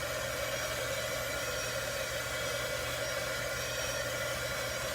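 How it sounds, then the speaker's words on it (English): A heat tool blows a steady, continuous rush of hot air to dry paint on a stencil, a constant whooshing hiss with a faint motor hum, close and unchanging throughout. "I can zap it with my heat tool, being very careful not to let the heat touch my stencil"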